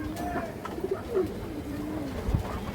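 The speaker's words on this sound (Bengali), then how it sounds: "এক হাত সাইজের একটা ঘর রানার কবুতর" A large, fresh homer runner pigeon with red eyes, from an old bloodline, coos softly in several short rolling phrases, close by with a faint background hum.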